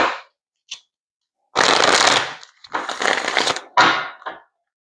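Tarot cards are riffled and shuffled in several quick, crisp bursts separated by short pauses, close and clear with no talking.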